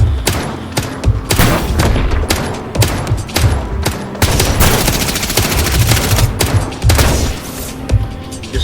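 Rapid bursts of automatic gunfire and booming explosions from a mobile advert shooting game, dense and loud with rattling volleys and heavy thumps throughout.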